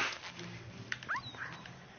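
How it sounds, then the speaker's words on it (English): Small, high yelping barks like a puppy from a dog in the video game Fallout 4, two or three quick bursts over a busy background hum, moderately faint. "what are you barking at?"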